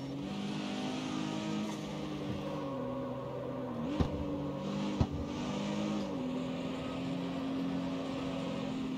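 Mitsubishi Evo launching in the CarX Street racing game, its engine droning steadily with harmonic tones that rise and shift, plus two sharp clicks, likely gear changes, near the middle.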